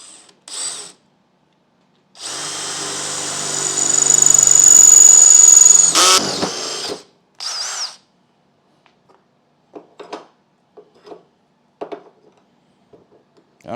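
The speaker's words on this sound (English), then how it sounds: "let's go ahead and drill the hole" A power drill bores a hole in wood in a few separate bursts, the longest a loud, sustained whine of several seconds, followed by faint clicks and handling noises in a quiet room.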